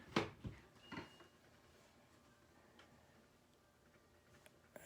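A metal United Model 84 wall clock ticks with a light mechanical sound: a few sharp clicks near the start, then fainter ticking against a quiet room.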